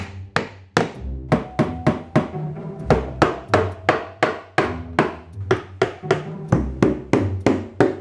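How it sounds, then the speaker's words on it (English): Repeated hammer blows on wooden boards, struck in quick bursts with short pauses between them, loud and close, with no talking. "now I've got to hammer the flooring in"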